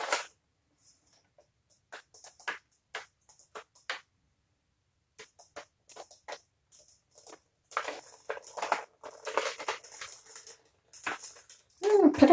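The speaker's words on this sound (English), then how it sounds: "Pitter patter of paint rain." Acrylic paint drips and patters irregularly during a circle re-pour, with sparse soft taps at first that become denser, quiet and close.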